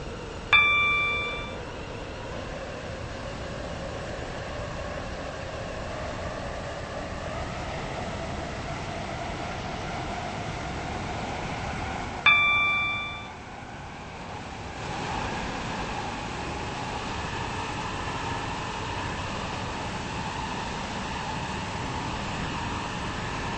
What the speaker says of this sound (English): This train is now approaching Hampton Highgate.